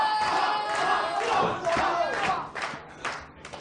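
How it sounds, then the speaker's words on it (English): Wrestling crowd at a CHIKARA show roaring and chanting loudly and steadily in a packed venue, rising in bursts with a few thuds from the ring beneath. "And now this crowd getting behind Pac."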